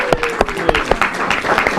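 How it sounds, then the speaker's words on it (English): Audience applause for a bingo winner at a community show, with a short burst of scattered clapping and distinct loud claps recurring, mixed with some background voices. "So let's get a round of applause for Spencer."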